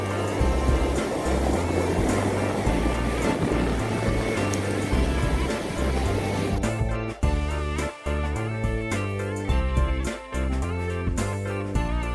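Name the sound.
big ocean surf waves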